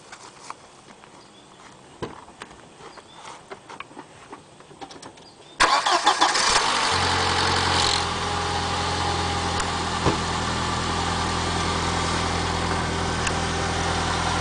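Car engine fitted with a hydrogen fuel cell cranks and catches abruptly, then settles into a steady, smooth idle that runs on loudly without any talking.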